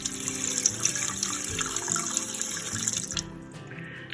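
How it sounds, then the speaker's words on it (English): Tap water runs steadily into a large pot for chicken and dumplings, a continuous close splashing stream that stops abruptly near the end. "So I'll probably add a little bit more water just to make more broth."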